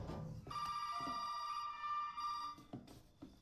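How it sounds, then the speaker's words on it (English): Telephone ringing in the Resident Evil 7 video game, a steady electronic ring tone with a sustained bell-like pulse and short trailing bursts, alone with no talk over it. "Now the phone is ringing."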